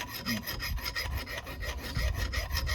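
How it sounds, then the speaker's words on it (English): An engine part being rough cleaned by hand, a close, repeated rasping scrape in quick back-and-forth strokes with no talk. "what we are doing now is we are busy rough cleaning this, just to get the high spots that we can visibly see with our eye"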